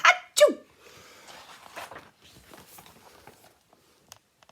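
A human voice imitating a giant's sneeze, two sharp loud bursts at the start, followed by softer breathy rustling and a few faint clicks.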